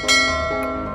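A notification bell sound effect rings out once as a bright, clear chime near the start, its tone sustaining and slowly fading through the rest of the second, with a second lighter ping partway through.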